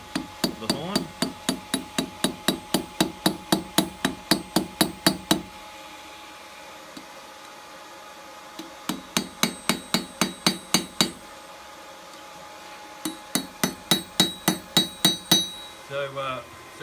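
Steel spoon neck forged on the tip of an anvil horn, a rapid hammer rhythm of ringing metallic strikes in three bursts separated by pauses, close and clear.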